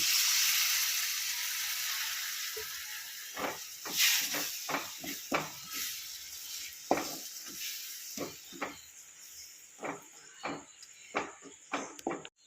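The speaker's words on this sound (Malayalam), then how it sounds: "അതിലേക്ക് നമുക്ക് കുറച്ച് വിനാഗിരി കൂടി ഒഴിച്ചു കൊടുക്കാം" Vinegar poured into a hot, well-roasted spice mix for gooseberry pickle sizzles loudly at first, then fades into a steady hiss broken by many sharp, irregular crackles and pops close by.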